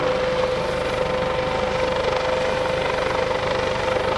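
A USCG Dolphin helicopter hovers at an air show rescue demonstration, its steady rotor and turbine drone continuous and fairly loud at a distance, with no voices.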